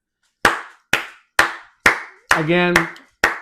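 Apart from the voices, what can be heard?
hands clapping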